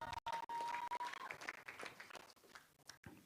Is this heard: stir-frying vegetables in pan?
no